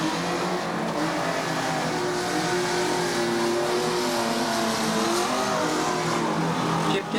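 Unlimited banger racing cars at Ringwood Raceway roar together in a dense, continuous engine drone from a distance, steady and loud throughout with no talk.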